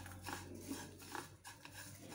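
A spoon scrapes and stirs a dry red garlic chutney mixture with coconut in a pan, soft repeated clinks and scrapes at close range with no talk.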